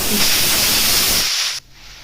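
Loud, steady hiss of steam rushing out of a pressure cooker of mixed vegetables, holding for about a second and a half before cutting off abruptly into quiet.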